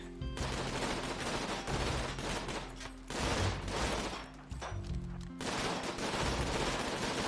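Sustained video game gunfire mowing down zombies, dense rapid bursts of shots rolling almost continuously with brief pauses, loud and close, no talking over it.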